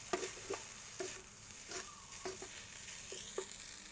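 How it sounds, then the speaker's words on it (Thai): A spoon stirs seasoned Thai fried rice in a pan over a soft frying sizzle, with repeated scraping strokes coming about every half second. "ปรุงเสร็จแล้วเราก็มาคนนะคะ คนให้น้ำตาลละลายทั่วข้าวนะคะ"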